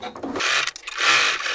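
A sewing machine stitching a drawstring tote backpack runs in short whirring bursts that stop and start within a second or two, close up.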